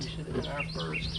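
Small birds chirp and sing in the background at Lake Louisa State Park, quick rising and falling calls scattered over a low campsite hum, with a voice talking over them.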